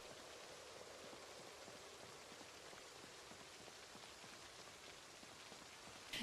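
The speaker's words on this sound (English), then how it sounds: "It's raining" Steady rain falls in the survival video game Project Zomboid, a continuous hiss of drops on surfaces, even and unbroken with no talking.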